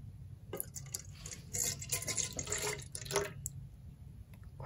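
A cup of milk is poured into a bowl of wet ingredients for funnel cake batter, a soft, quiet liquid trickle and splash that lasts a few seconds.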